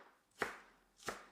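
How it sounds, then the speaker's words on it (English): A knife chops through a small onion on a board in two crisp, separate strikes about half a second apart, close and clear with no talking. "So first of all, I chop the small onion."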